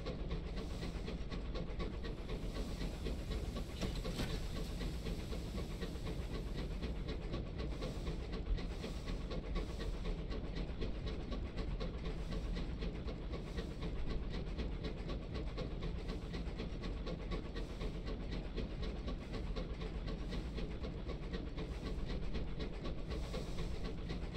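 A steam locomotive in the video game Sunless Skies keeps moving with a steady, even rumble and hiss and faint rhythmic chuffing, heard alone without talk.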